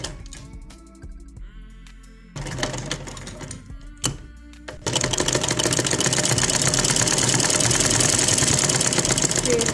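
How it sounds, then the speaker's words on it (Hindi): A sewing machine runs a straight stitch along a dupatta seam, starting with short stop-start bursts and then settling into a steady, loud, continuous whir at close range, with no talking. "तो अब स्टिच करना स्टार्ट करते हैं।"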